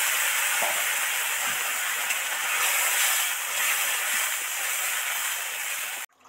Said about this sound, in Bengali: এটা একটু গরম জল দিয়ে দিচ্ছি, অল্প পরিমাণে গরম জল দিয়ে দিচ্ছি।